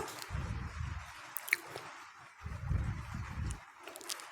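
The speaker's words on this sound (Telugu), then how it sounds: "ఎక్కువ మరగకుండా కొద్దిసేపు రెండు మూడు నిమిషాలు మరిగితే సరిపోతుంది" Peanut powder rasam simmering in a pot, with soft bubbling pops and squelchy low gurgles in uneven bursts, close and fairly quiet.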